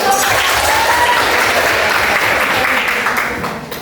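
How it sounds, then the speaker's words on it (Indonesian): A classroom of students claps together in sustained, dense applause, loud and close, fading slightly at the end. "Tepuk tangan dong."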